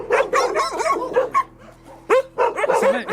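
Dogs at a dog meat farm in Korea bark and yip in short irregular bursts, close and loud, with a few whimpering sounds between barks.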